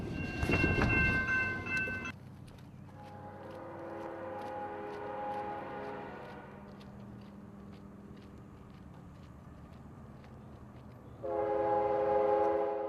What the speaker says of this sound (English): K811 is a Chicago to Mulberry sulfur train serving the Bone Valley phosphate industry